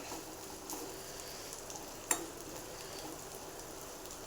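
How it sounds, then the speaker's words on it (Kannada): Moringa drumstick pods fry in a pan with a steady, faint, even sizzle, with one brief sharp click partway through and no talking. "ಈಗ ತೀರಾ ಚೆನ್ನಾಗಿ ಮಿಕ್ಸ್ ಮಾಡ್ಕೊಳ್ಳೋಣ ಈ ಥರ ಎಲ್ಲ ಫ್ರೈ ಆಗಬೇಕು"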